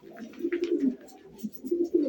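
Domestic tumbler pigeons cooing close by, a few soft throaty phrases in quick succession with short pauses between, no talk over them.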